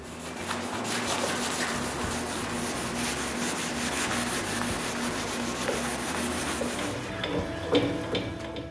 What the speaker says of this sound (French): Il ne reste plus qu'à le polir avec une guenille.